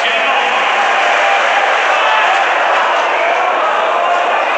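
A darts crowd fills an arena in Hildesheim at the German Darts Championship, a European Tour event; the dense, steady roar of many voices carries on loudly and unbroken throughout, with no single voice standing out.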